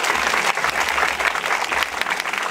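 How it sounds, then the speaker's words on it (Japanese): A large audience claps loudly and energetically for the Skybonz basketball team at the Bac to Pec 2015 showcase, a thick, fluttering burst of applause sustained throughout. "これからもみんな頑張ってくださいの大きな拍手を入れてください"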